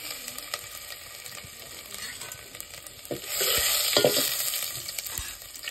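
Curry leaves sizzling and being stirred in a pan of oil with crushed ginger and garlic for a spicy village-style mutton rassa, frying loudly with steady scraping stirs that swell in intensity midway.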